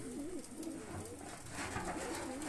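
Flying pigeons coo softly and continuously in a loft, a steady wavering low warble that carries on without pause and stands alone with no talk.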